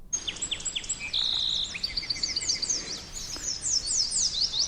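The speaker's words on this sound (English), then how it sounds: "Starting with Louise and her new audio postcard from a very birdie place in Western Idaho." Birds calling at Martin's Landing in the Fort Boise Wildlife Area, western Idaho: repeated high chirps, trills and whistled notes from several birds overlap continuously, fairly close and clear over a soft outdoor background.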